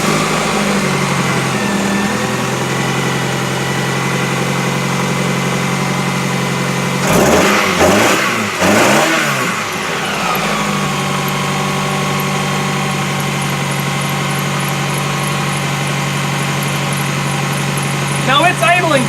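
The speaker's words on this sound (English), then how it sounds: "let's start this up and see where this one idles." A manual Toyota Camry demolition derby car, 1993 to 2002 model, cranks briefly, catches with a couple of revs, then settles into a steady close idle that drones on alone.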